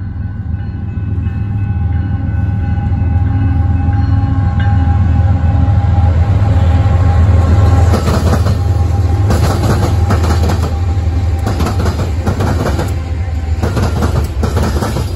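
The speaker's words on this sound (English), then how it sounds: "This one has 6 locomotives, guys. This is going to be a long train." A long Union Pacific mixed manifest freight train led by six locomotives passes close by, a loud continuous low rumble with wheel clatter and rail noise building through the middle, crossing diamonds alongside Norfolk Southern distributed power.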